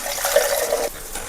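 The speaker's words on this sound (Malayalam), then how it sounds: "കുറച്ച് വെള്ളം ഒഴിച്ചു കൊടുക്കാം" Water pours briefly into a pan of masala for an eggplant gravy, a short splashing gush that fades after about a second.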